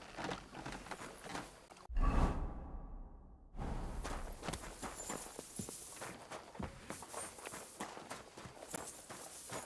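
A horse clip-clops along in Kingdom Come: Deliverance II, a run of crisp hoof strikes broken by a loud whooshing rush before the steady footfalls resume, close and clear.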